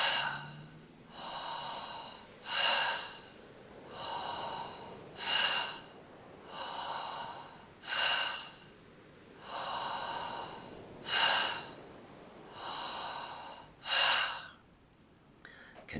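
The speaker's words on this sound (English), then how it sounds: "Second breath pattern, heart breath. In and out of the mouth, in and out of the heart" Slow, steady breathing in and out through the mouth during a guided breathwork practice: about nine audible breath cycles, each a soft rising inhale or exhale, heard alone and close.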